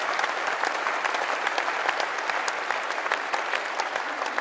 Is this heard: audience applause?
yes